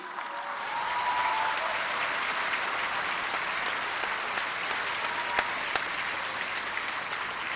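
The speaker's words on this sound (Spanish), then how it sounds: "pues un aplauso al ingeniero José Ignacio Sánchez Galán" An audience applauds an engineer at an electricity plant nationalization event, a steady, moderately distant wash of clapping that holds evenly throughout with a few sharper individual claps standing out.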